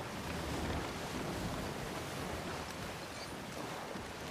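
Steady wind and rolling sea waves rush past a sailing ship in the pirate game Sea of Thieves, a constant broadband roar with no voices.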